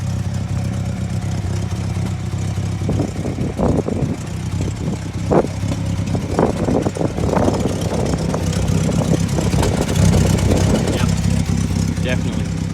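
A car engine with an exhaust leak idles steadily and close by, a low continuous rumble with ticking clatter, while a person talks over it intermittently.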